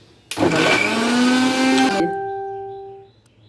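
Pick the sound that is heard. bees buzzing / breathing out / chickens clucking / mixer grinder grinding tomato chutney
mixer grinder grinding tomato chutney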